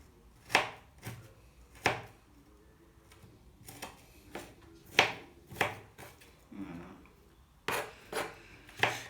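Aubergines chopped by hand with a knife on a board, done the old-fashioned way instead of with a machine; a series of sharp, separate chops in irregular bursts, close up and fairly quiet, with no talking.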